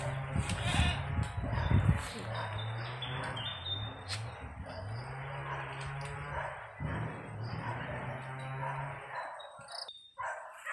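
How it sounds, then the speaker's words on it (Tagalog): Goats bleating repeatedly at a moderate distance around a rural provincial home, with wavering, drawn-out cries overlapping against a busy outdoor background. "Tapos diha sa unahan among mga kambing."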